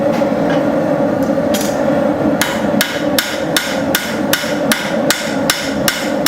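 A hand hammer strikes hot steel while forging the bevel on a utility knife, a steady series of sharp, ringing blows, close and loud, arriving about two per second.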